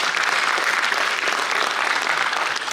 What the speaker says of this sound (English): I think that deserves him a big round of applause.